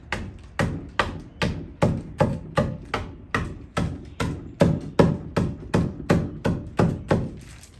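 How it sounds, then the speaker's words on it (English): A hammer crushes chalk inside a bag in a quick, even series of about fifteen close, sharp thuds, each blow with a brief crunchy decay and nothing else heard. "I'm just gonna hammer on this and crush it up."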